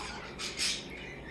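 Pet birds squawking in a home, with a brief, bright squawk standing out over a low steady background hum and no speech.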